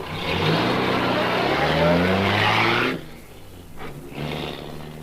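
A dog catcher's truck roars away with tires skidding, a loud burst of engine and screeching rubber lasting a few seconds before dropping off, then a brief second surge.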